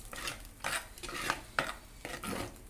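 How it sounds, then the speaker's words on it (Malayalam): A pot of Kerala-style taro (chembu) curry being stirred, a few scraping and clinking strokes of a spoon against the pot, close and moderately loud, with no voice. "ഇപ്പോൾ നല്ല ഇളക്കി യോജിപ്പിക്കാം."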